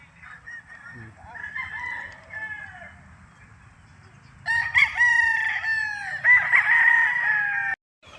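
A five-month-old dark-legged Sweater gamefowl rooster crows loudly and close on a farm in Tagaytay, two long strained crows over low ambient rumble, with other fowl clucking faintly.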